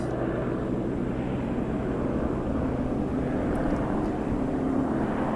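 A helicopter carrying a front-mounted camera flies overhead at a film shoot on a seaside promenade in Cleveleys, England, heard as a steady, loud rotor and engine roar filling the whole clip.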